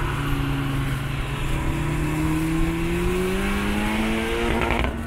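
Honda Civic Type R FK8 lapping a race track, its engine climbing steadily in pitch through a gear under hard acceleration, loud and close, with faint tire noise.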